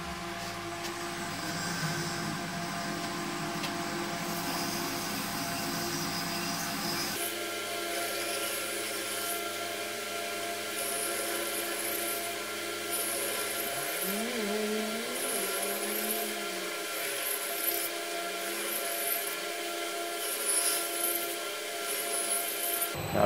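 A very fine belt grinder running at slow speed polishes an etched Damascus steel blade, giving a continuous close rubbing and grinding drone with a steady hum, partly changing tone midway as pressure shifts.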